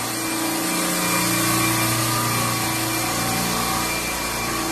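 A refrigeration rack compressor starts up once its circuit is switched on, giving a loud, steady mechanical drone with a broad hiss and a constant hum that holds unbroken throughout.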